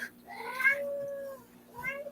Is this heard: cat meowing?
yes